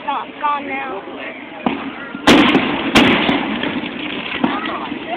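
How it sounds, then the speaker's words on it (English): Booming fireworks at a Melbourne, Florida show land in two sharp, loud blasts followed by crackling tails, with a whistling shell early on and people chatting nearby throughout. "Fireworks coming towards you."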